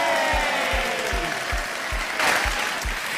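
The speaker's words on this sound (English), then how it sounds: "let's give a rousing high impact round of applause" A round of applause welcoming a guest on a radio show, steady clapping and cheering laid over a thumping rhythmic music bed with an evenly spaced beat, no voices standing out.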